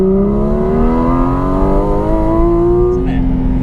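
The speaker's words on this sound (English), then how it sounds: "So I'm going to put the exhaust noise on." A loud Porsche GT4 RS engine revs steadily upward, exhaust roaring close by as the pitch climbs smoothly over several seconds.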